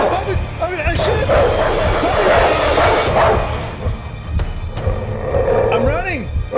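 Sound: dogs barking in a horror video game

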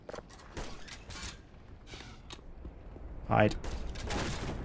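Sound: gunfire from enemies shooting at the player in the video game Black Mesa

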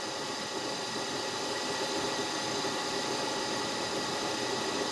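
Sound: surface grinding machine motor moving the table

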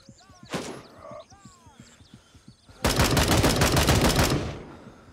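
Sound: gunfire from a video game, Gray Zone Warfare

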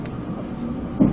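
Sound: moving metro train

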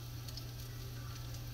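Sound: cornbread sizzling in frying pan

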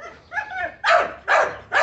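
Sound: dog barking outdoors

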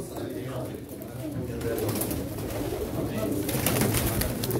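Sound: pigeons cooing at a pigeon auction

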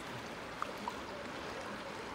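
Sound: river water flowing

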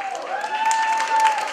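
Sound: audience applause at a wedding show

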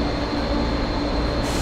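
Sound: KCR train departing from a Hong Kong station

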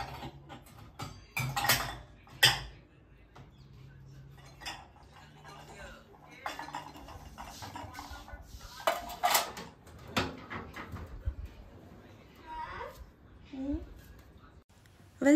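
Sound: bronze utensils being wiped clean after washing

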